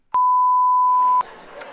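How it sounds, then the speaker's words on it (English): A single sustained electronic beep at a steady pitch sounds loudly for about a second, then stops. "Oh, come on, go beep."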